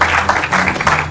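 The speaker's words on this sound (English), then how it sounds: "A round of applause for them." Clapping from a quiz show audience applauding the Adisadel College team after round one, a short burst of dense, close applause.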